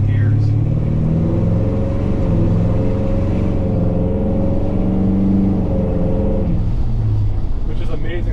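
A 1955 Ford F100 with a Coyote V8 swap and a 10-speed automatic drives along, its steady engine rumble stepping through gears with a noticeable shift near the end, while someone talks over it from inside the cab.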